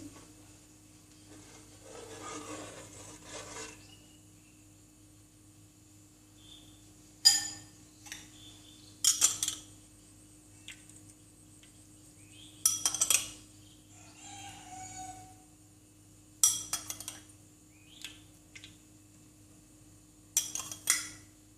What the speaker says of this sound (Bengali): ভিনেগারটা একইভাবে ঘুরে ঘুরে দিয়ে দিচ্ছি সামান্য একটু নেড়ে নিচ্ছি